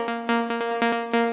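A synth lead built from saw wave oscillators, with a 1-second decay and a 600 ms release, plays short, loud, buzzy repeated notes in a bouncy rhythm.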